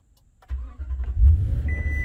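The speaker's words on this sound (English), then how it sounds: "I'm going to give it about 10 seconds and then restart the truck" A 2020 Toyota Tundra TRD Pro pickup restarts: after near silence the engine cranks and catches into a close, steady idle rumble, and a thin electronic tone comes in near the end.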